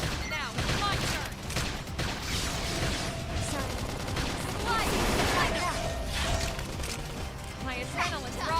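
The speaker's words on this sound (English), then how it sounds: "We can just cover them with gunfire." Bursts of rapid gunfire and crashing impacts fill a mech combat video game, loud and dense throughout, layered with game effects and music.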